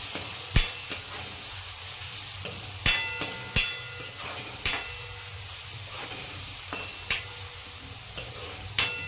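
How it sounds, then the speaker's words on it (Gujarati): Chopped green onions are stirred into a frying pigeon pea dish, with a steady low sizzle under repeated sharp clacks of a spoon against the pan at an irregular pace, close up and with no talking. "હવે કટ કરેલી લીલી ડુંગળી નાખીશું એને પણ સરસ આ રીતના મિક્સ કરી દઈશું"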